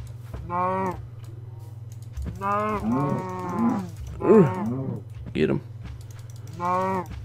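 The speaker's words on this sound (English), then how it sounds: "We found these cows." Cows in the video game Minecraft give several drawn-out, fairly close moos at uneven intervals over a steady low hum, with faint keyboard clicks between calls.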